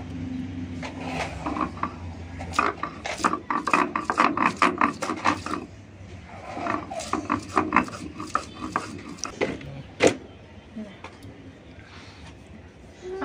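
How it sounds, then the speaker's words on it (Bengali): Garlic is ground on a grinding stone, a string of quick scraping, rubbing strokes in bursts with short pauses, close by, while a person talks. "সব প্রথমে আমি রসুনগুলো বেটে নিচ্ছি।"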